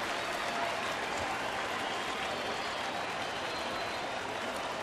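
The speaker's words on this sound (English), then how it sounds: "Here comes the crowd now" Crowd at a Kansas City–Detroit baseball game cheers and applauds in a steady, dense wash of sound from a large stadium audience, with no break and no clear voice on top.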